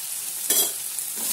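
Vegetables with turmeric are stirred and sautéed in a pan for vermicelli upma: a soft sizzle broken by two brief scraping stirs, close by, with no voices.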